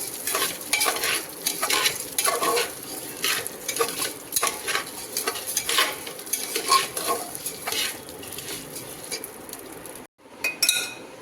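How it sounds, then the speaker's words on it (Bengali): Masoor dal frying in a pan with onion and garlic, a steady bright sizzle with repeated stirring scrapes and utensil clinks close by, a brief pause near the end before the sizzling resumes. "এবার দিয়ে দেব ডাল মুসুরির ডাল ডালটাকে একটুখানি ভেজে নেব"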